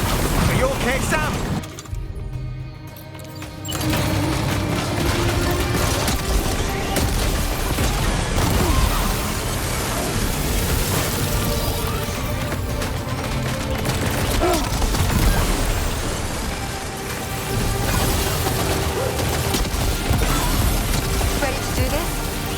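Sustained gunfire in the video game Death Stranding 2 during the Higgs boss fight: a loud, dense barrage of shots and crashes over a thick game soundtrack, briefly thinning after the first couple of seconds before resuming steadily.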